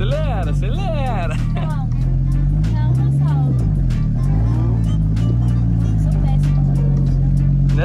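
Engine of a Porsche car accelerating under loud, excited talk from people inside the cabin, with a steady low engine rumble that holds throughout and pitch rising and falling slightly.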